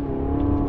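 Ferrari 488 GTB with an Akrapovic exhaust in race mode with traction control off, a steady loud engine drone held briefly up close with no voices.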